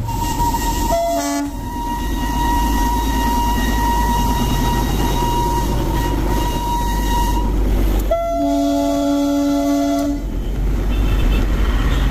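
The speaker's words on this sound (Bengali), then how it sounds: "দুখানা টয় ট্রেন একটার পর একটা ঘুম স্টেশনকে তো বিদায় জানালো।" Two Darjeeling toy trains pull out of Ghum station one after the other, each sounding a loud steady horn blast over a continuous low rumble of running wheels and engine.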